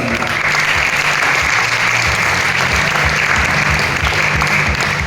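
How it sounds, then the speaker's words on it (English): Loud, sustained applause from a large crowd at a shooting World Cup 10m air rifle final in Lima, Peru, with dense clapping and cheering throughout. "Make some noise for Victor Lindgren."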